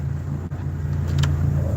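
A car's engine idles with a steady low hum and rises slightly as the vehicle is backed in, close and continuous for a couple of seconds.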